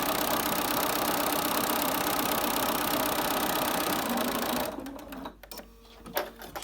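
A sewing machine stitches a cloth face mask, a steady fast mechanical hum and rattle running continuously before stopping abruptly, followed by a few faint clicks and handling sounds.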